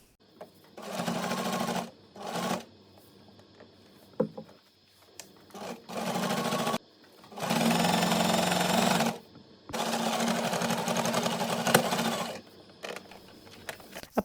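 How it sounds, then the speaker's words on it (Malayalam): A sewing machine stitches leftover fabric into a bag, running in several bursts of steady mechanical whirring separated by short pauses, close and clear with no talk over it. "ഇനി നമുക്ക് ഇതിൻ്റെ മുകളിലായിട്ട് ഇങ്ങനെ നീളത്തിൽ നമുക്കത് സ്റ്റിച്ച് ചെയ്ത് കൊടുക്കാം."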